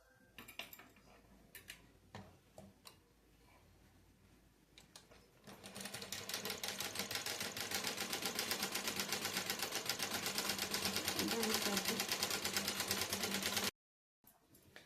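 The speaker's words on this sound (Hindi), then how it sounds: "इस तरीके से कपड़े को फोल्ड करके किनारे किनारे सिलाई लगा लेना है" Sewing machine stitching along the folded edge of blouse fabric: a few scattered clicks and handling noises first, then a loud, steady, fast mechanical chatter running for about eight seconds before stopping suddenly.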